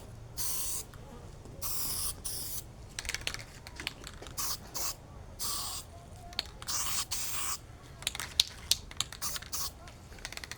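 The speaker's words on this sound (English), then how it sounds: "As you can see, the spray putty's already filling in a lot of the 3D print." Spray putty hisses from an aerosol can onto a 3D-printed RC vehicle part, several sustained bursts of loud close spray separated by short pauses, with light handling clicks between them.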